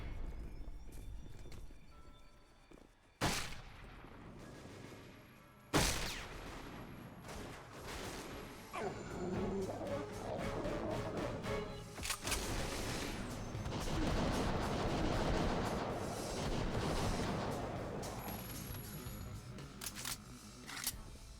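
Pistol gunfire in the action game Dead to Rights, with sharp loud shots near 3, 6 and 12 seconds and a busy stretch of rapid fire over game music and effects.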